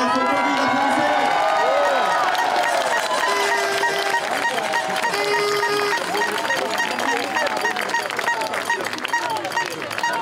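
Loud outdoor crowd at an anti-mask rally in Paris, a dense wash of cheering, shouting and clapping over whistles and tonal calls, sustained at full level throughout.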